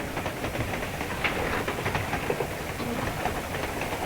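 Steady rumbling rattle of a 1930-era train rolling along the rails, a continuous dense clatter with faint rhythmic clicks, no voices.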